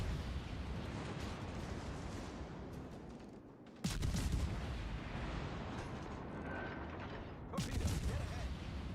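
Naval gunfire from a warship in World of Warships: Legends, with a dense, roaring rumble of shelling that swells in two heavy bursts.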